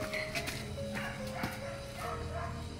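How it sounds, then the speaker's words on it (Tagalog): Caged dogs bark in a short, close burst of yips and woofs, repeated several times over a busy background. "Nakakulong yung mga aso."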